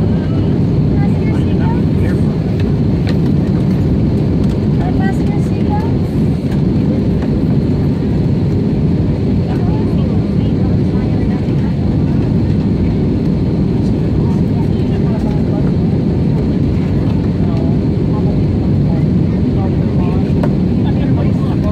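Steady, loud broadband roar inside the cabin of a Spirit Airlines Airbus A320neo on approach to landing at Orlando, a continuous low engine and airflow drone holding evenly throughout with no voices over it.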